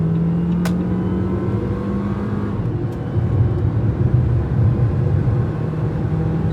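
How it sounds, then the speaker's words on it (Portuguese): A 2023 Jeep Commander Limited T270 launches hard from a standstill, its engine and road noise forming a loud, steady low rumble that swells slightly as it accelerates. "Vamos fazer uma largadinha estolada."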